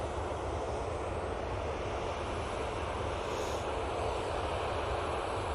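Airliner taxiing at Manchester Airport, a steady broadband engine roar with a constant rushing hiss that holds level throughout, no talking.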